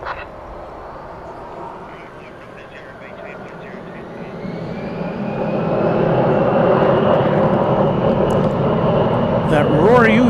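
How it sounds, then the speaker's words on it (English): An Airbus A321 jet roars at night at DFW Airport, a broad, steady engine rumble swelling louder as it passes, with radio chatter or talking audible underneath. "That roar you hear is this plane. It's an Airbus A321 headed to Calgary, Canada."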